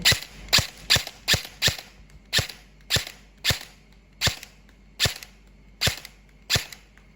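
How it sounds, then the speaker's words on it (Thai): An E&C 815 Gen2 toy gun fired at a 40-metre range: about fourteen sharp, snappy cracks, quick at first, then evenly spaced roughly every half second, loud and close with no talking. "ระยะ 40 เมตร ทดสอบกลุ่มกระสุนนะครับผม"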